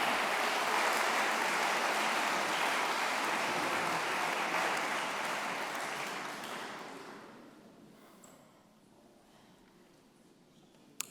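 Applause from the audience at the opening of a national congress fills a large hall, a dense, sustained clatter of many hands that fades gradually over the last few seconds, then stops.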